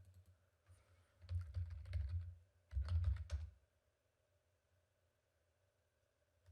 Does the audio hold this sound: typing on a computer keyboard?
yes